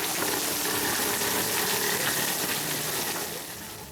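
Heavy monsoon rain in Parbhani with overflowing drains and water flowing over the roads: a dense, continuous rushing wash of water, loud and steady, easing slightly at the end, with no voices.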